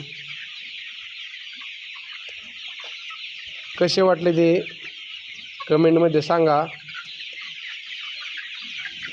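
Chickens on a poultry farm at Prithviraj Agro Farm, two loud close bursts of clucking and squawking over a constant high background chorus of birds, with a voice speaking.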